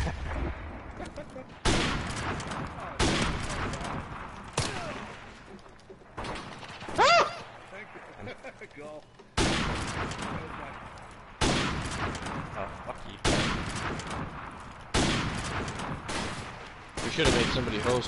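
Rapid bursts of video game gunfire, loud and close, crack out in repeated clusters of shots separated by brief gaps.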